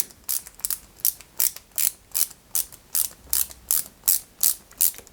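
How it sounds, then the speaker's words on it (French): Small screws turned by hand into a Ferrari 330 P4 scale model kit while fitting an anthracite stabiliser bar, giving about fourteen evenly spaced ratcheting clicks, close and crisp, with no voices. "on y met deux vis BM plutôt côté extérieur"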